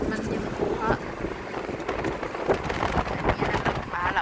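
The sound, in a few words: strong wind through open window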